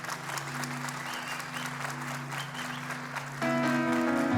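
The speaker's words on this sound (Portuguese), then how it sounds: "Pode aplaudir." A church congregation applauds, a steady wash of clapping over a sustained low organ or keyboard drone, with a fuller musical chord swelling in near the end.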